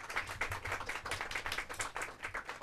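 Hands clapping for a team at a Hindi school competition, a short, fairly faint burst of distinct rhythmic claps from a small group.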